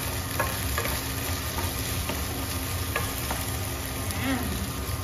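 Tomatoes being stirred into squid adobo in a pan: a steady sizzle and frying hiss with soft scraping stir strokes recurring every second or so.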